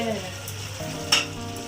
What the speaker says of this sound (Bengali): এ কতক্ষণ লাগে মাংস কষতে?